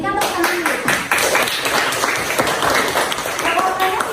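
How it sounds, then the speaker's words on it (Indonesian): A classroom of students claps for two classmates, a loose burst of close hand clapping with uneven, sharp strikes and some children's voices mixed in. "Berikan tepuk tangan dulu."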